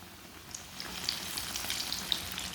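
Mini sandwiches frying in a pan, a soft steady sizzle with faint scattered pops and crackles, quiet and close with no voices.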